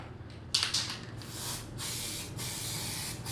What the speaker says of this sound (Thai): ฉีดสเปรย์นะครับ